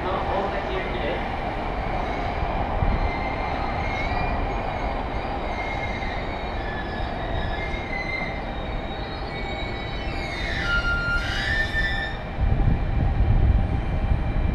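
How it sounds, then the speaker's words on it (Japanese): A JR Yamanote Line train rolls in and slows at the platform at Shinagawa Station, Tokyo, wheels rumbling, with a sharp metallic squeal of brakes near the end. "到着の電車はお隣の駅が終点の大崎行きです"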